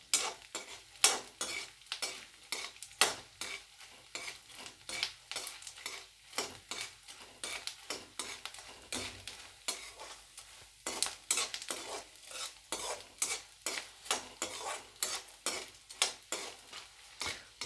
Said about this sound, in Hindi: गोल्डन ब्राउन होने तक धीमी आंच पर इनको ऐसे ही सेका जाएगा, भुना जाएगा।